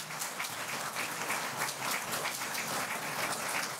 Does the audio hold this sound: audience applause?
yes